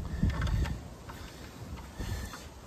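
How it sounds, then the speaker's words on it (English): A steel cable tensioner is screwed down by hand to take slack out of the cable, giving faint, soft mechanical rustles and small clicks in a few brief bursts close by, with no talking. "now you take your tensioner and you screw it down like this so it takes the slack out of the cable."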